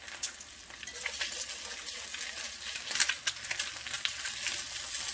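A duck egg fries in a pan for breakfast bacon enchiladas, crackling and spitting in a bright continuous sizzle with sharper pops as its white is broken up, close and loud with no talk.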